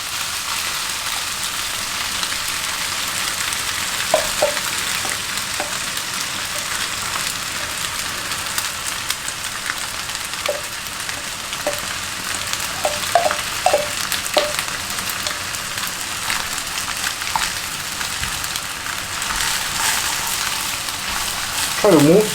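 Egg fried rice sizzles steadily in a hot pan after the rice goes in, a continuous dense hiss broken by occasional small clinks and scrapes of stirring.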